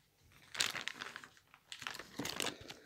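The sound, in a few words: plastic bag rustling as scooter brake lever is unpacked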